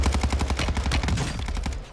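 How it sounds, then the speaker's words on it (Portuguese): Rapid bursts of gunfire in Call of Duty: Warzone 2.0 crack in quick succession, a loud automatic volley that tapers off near the end. "Dá um tiro, Randy, um tiro."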